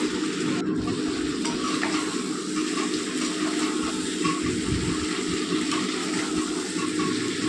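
Chicken curry cooking in oil in a pan, a steady broadband sizzle running continuously and fairly loud throughout, with faint scraping of stirring mixed in.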